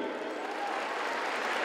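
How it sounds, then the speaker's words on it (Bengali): An audience applauds at the first reunion of Udayan school in 2006, a soft, even wash of many hands clapping heard at a distance for a short stretch. "নাসিমা পারভিন। তোরে হাততালি।"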